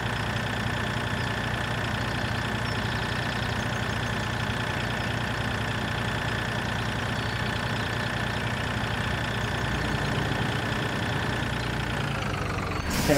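Tractor engine in the Farming Simulator 2013 video game, driven during straw baling, hums steadily at a constant idle-like drone, loud and unbroken for the whole stretch with no talk over it.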